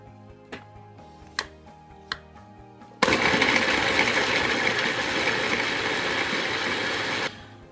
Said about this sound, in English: Always pulse the food processor at the end if there's a few big pieces that get stuck